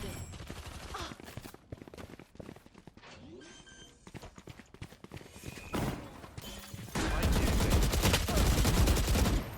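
Valorant gunfire: rapid bursts and single shots crack repeatedly through game footsteps and effects, then a dense sustained volley builds loudly near the end.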